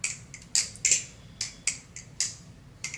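Freshly tuned and lubed balisong knife being flipped, a run of crisp, light metallic clicks and snaps at an uneven rhythm, close but fairly quiet against a soft background, with no voices.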